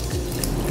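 Water mixed with soaked varagu millet rice and lentils is poured into a cooker pot for sambar rice, a short steady splashing pour heard alone and close.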